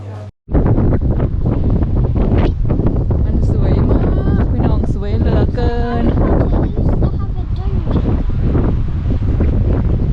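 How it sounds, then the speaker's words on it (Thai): Strong wind buffets the microphone at Bamburgh Castle, a loud continuous roar after a short quiet opening, with voices and brief tonal sounds scattered through it. "ได้ยินแต่เสียงลม"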